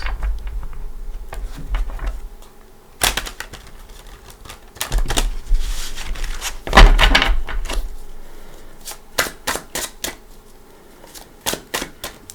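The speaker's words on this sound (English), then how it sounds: "I feel like I want to give it a good shuffle" Tarot cards riffled and shuffled in several quick bursts of crisp flutter, close up and with no talking.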